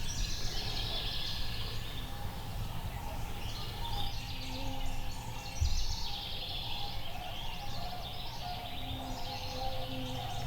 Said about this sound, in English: We'll know when he gobbles in the woods in just a second.